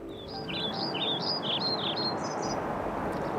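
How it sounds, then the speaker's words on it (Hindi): Small birds chirp in a rapid series of short, bright tweets over a soft ambient hiss, fairly close and clear, with no other voices. "कुछ पक्षी चहचहा रहे हैं"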